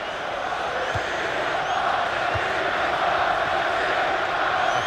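A virtual stadium crowd at a Chelsea vs Hull City Premier League match in an EA Sports football game keeps up a steady roar of cheering and applause that holds evenly for the whole clip.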